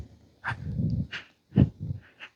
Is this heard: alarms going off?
no